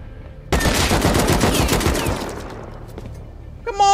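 Dense burst of automatic gunfire from the survival game Rust, a rapid loud volley that thins into scattered shots and a fading tail, with a short sharp electronic chime at the end.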